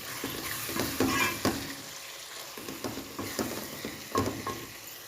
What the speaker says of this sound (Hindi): इसको अब 1 मिनट और मज़ीद भून के